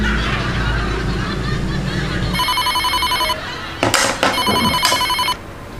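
A telephone rings with two bursts of a bright electronic trill, following a noisy stretch and brief chatter between the rings.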